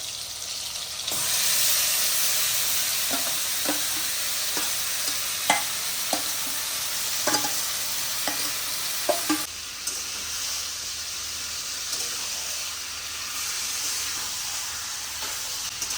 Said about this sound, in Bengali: 2 মিনিট এত ভালো করে এরকম কষিয়ে নিই